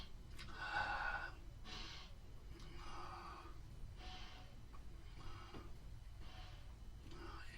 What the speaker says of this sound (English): doing the deep breathing exercise